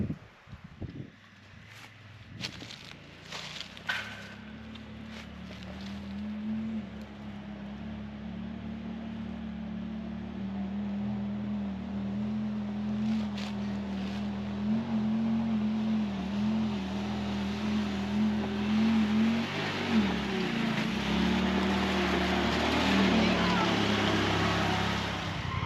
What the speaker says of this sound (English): Like a redneck tractor pull going up the mountain there